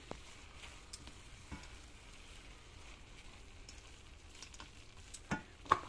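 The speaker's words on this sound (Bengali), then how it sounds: "গরম মশলার গুঁড়ো দিলাম একটু ঘি দিলাম দিয়ে ভালো করে মিশিয়ে নিয়ে" Radish and bori curry (mulo ghonto) being stirred with ghee and garam masala, a soft continuous sizzle under scraping strokes, a couple of louder clinks near the end.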